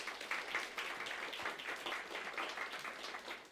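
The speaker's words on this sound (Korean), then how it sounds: "환영의 박수를 한번." A church congregation gives a short round of welcoming applause during a Sunday service. The clapping is fairly quiet and scattered, a roomful of hands with a low hum beneath it, and it runs the whole time without speech.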